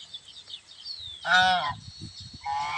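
A duck honks loudly once in a nasal, harmonic call, with softer scattered quacks and chatter around it, close by in a village yard with chickens.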